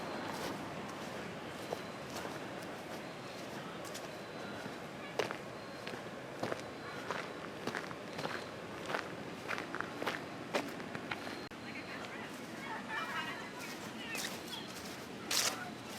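Footsteps walking toward the shoreline at Four Mile Creek State Park in Youngstown, New York, in autumn, a steady series of close crunching steps over outdoor ambience, with a voice now and then.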